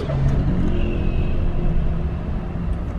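A Suzuki Wagon R Stingray pulls away as it is shifted into drive, its engine a steady, close rumble with a mild rise in revs throughout, heard alone.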